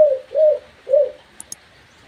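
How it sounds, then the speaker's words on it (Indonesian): A tekukur, a spotted dove, coos three times in an even rhythm, each note soft and rounded, followed by two faint high clicks in an otherwise quiet setting. "Cooknya semakin panjang itu semakin istimewa, menambah keistimewaan dari burung tekuku ini."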